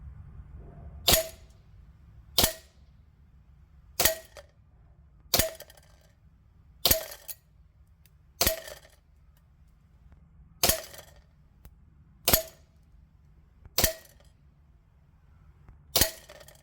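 Tokyo Marui Samurai Edge airsoft pistol fires 0.2 g BBs at a target 10 meters away, about eleven sharp, close single shots evenly spaced over a quiet background.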